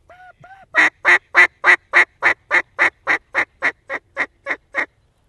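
Ducks call in a long, evenly spaced run of about fifteen loud, close honking quacks, preceded by two softer calls, as a big flock of mallards drops into decoys.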